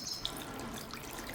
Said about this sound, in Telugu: కొంచెం నీళ్ళు పోసుకోవాలి.